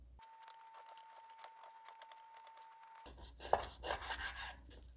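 Beef being cut into roughly 2 cm pieces for bo kho stew, a quick run of crisp, close cutting and scraping strokes, then duller rubbing and handling sounds, with no talking.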